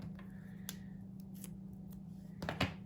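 Scissors snip a small piece of red liner tape during papercraft assembly, with a sharp cut near 0.7 seconds and a quick double snip around 2.5 seconds over a steady low hum.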